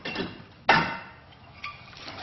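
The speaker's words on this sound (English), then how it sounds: "you can just hammer on it and break it loose right here" A hammer strikes a rear disc brake rotor to break it loose from the hub. One sharp, loud metallic blow lands, followed about a second later by a fainter knock, against quiet background noise.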